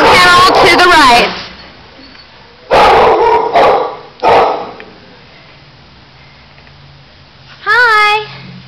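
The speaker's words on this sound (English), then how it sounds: "We got two little Catahoula puppies here." Catahoula puppies in a shelter kennel giving several sharp high yips and barks in bursts, loud and close, with quieter gaps between them and people talking nearby.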